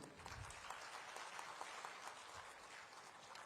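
Audience applause at an MoU signing ceremony in Tripura, a faint, steady wash of many hands clapping from a distance with no talk over it.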